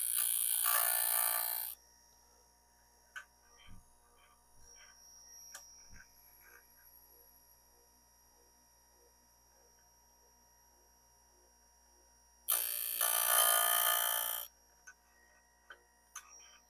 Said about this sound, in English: we're going to just gently kind of grind the ends down.